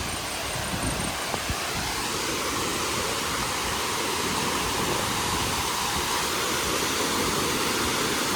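Water crashes down Ranpat waterfall in Konkan as a loud, dense, unbroken rush that fills the whole stretch close by, with no one speaking.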